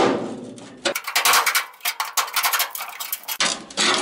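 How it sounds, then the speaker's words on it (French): A cold chisel is hammered against drilled-out spot welds on the steel body of a Citroën Traction 11B, giving a close run of sharp metallic knocks and rings, some fast and clustered, others spaced apart. "un petit coup de burin"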